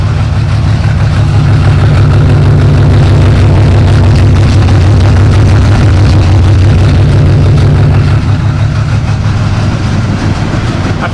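An old International Loadstar truck engine idles steadily on its own, a loud, continuous low rumble with an even chugging pulse throughout and no voices.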